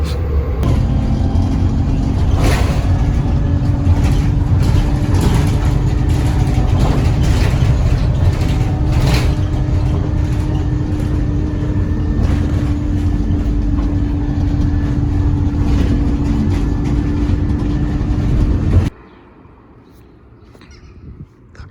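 Steady interior rumble of a moving bus on a trip toward Wensleydale, with rattles and mechanical clicks over a continuous low drone, ending abruptly in near quiet.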